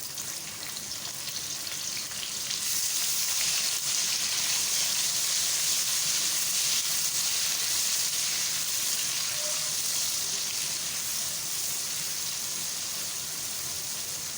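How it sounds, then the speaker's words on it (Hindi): Chopped onions fry in hot oil with a bay leaf in a pan for vegetable aloo matar pulao, a dense continuous hiss that swells after a couple of seconds and holds steady and close. "तो अच्छी तरह से इसको फ्राई करें प्याज को।"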